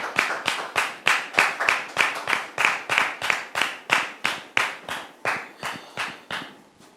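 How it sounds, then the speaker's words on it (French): A television studio audience claps in a steady, rhythmic beat to welcome a guest, with sharp evenly spaced hand claps continuing for several seconds and slowly fading, with no voices over it. "Public, merci de le recevoir sous vos applaudissements."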